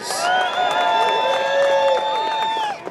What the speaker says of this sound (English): Everybody that's here, give yourselves a huge round of applause.